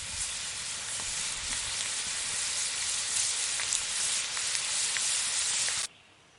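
Bacon frying in a pan over a campfire outdoors, a dense, constant crackling sizzle with small pops, close and steady before cutting off abruptly near the end.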